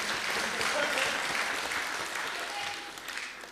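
A theatre audience at a comedy roast applauds in a dense, sustained burst of clapping that slowly fades toward the end, with scattered cheers and voices mixed in.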